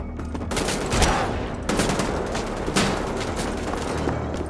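Rapid bursts of gunfire in the video game Wolfenstein: The Old Blood crackle in quick succession, sharp repeated shots with brief pauses between volleys, loud and close.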